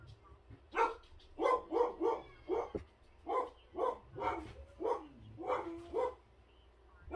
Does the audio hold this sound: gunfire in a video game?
no